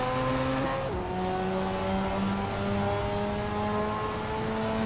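Mazda RX-7 race cars racing through the tight corners of Monaco, a loud continuous engine drone with shifting pitch as revs rise and drop, no voices over it.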